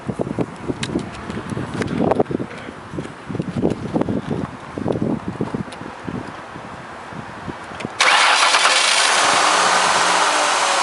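A car engine idles with a low, uneven rumble, followed by a sudden steady rush of hissing noise near the end.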